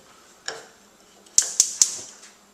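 Gas oven igniter in a home inspection kitchen, clicking sharply three times in quick succession after one softer earlier tick, close and crisp with no talk.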